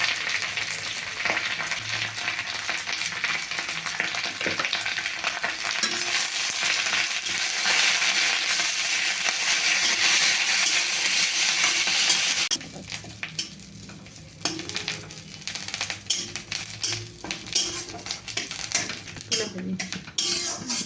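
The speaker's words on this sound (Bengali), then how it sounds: "প্রথমে কড়াইতে তেল গরম করে নিম পাতাগুলোকে ভেজে নিচ্ছি" Neem leaves fry in hot oil in a wok with a loud, hissing sizzle for about twelve seconds; it then drops to a quieter crackle broken by metal spatula scrapes and utensil clinks.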